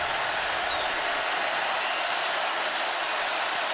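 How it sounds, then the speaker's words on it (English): Loud, dense stadium crowd roar at a Georgia vs Auburn college football game, a constant wash of noise filling the whole stretch with no break. "Jake Fromm trying to be heard over the crowd"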